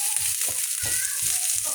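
Chopped onion hitting hot oil with lightly browned garlic for chicken chow mein, a bright steady sizzle broken by rhythmic scraping stirs of a spatula in the pan.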